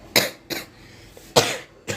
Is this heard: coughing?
yes